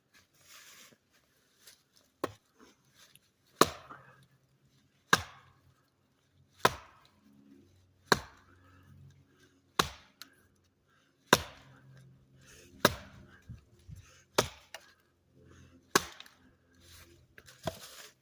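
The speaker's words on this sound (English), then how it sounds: "So that was 9 chops, and I got through." Axe chopping through wood: about a dozen sharp, separate strikes at a steady pace of roughly one every one to two seconds, fairly close, with faint rustling between blows.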